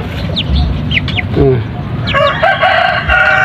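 Chinese and Rhode Island chickens in a yard, with a rooster crowing loudly and close in a long drawn-out call near the end, preceded by several shorter clucks and calls from the flock over a steady outdoor background.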